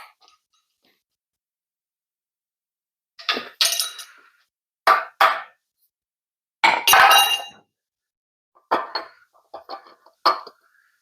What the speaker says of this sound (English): So I'm going to have to knock this thing loose with a hammer